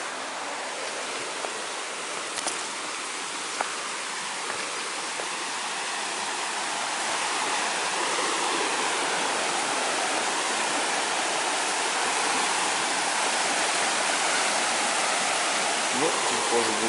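Teletskoye waterfall near Golden Lake in the Altai forest, a continuous broadband roar of falling water that swells louder partway through, steady and enveloping with no pauses.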